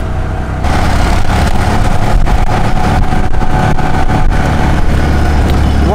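A small tuk-tuk's engine drones steadily during a ride, its buzzing motor note running under constant road and rattle noise with no talking.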